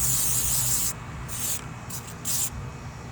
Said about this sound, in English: I'm going to go ahead and finish spraying this